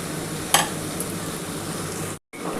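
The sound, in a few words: marinated chicken added to sizzling fried spice mix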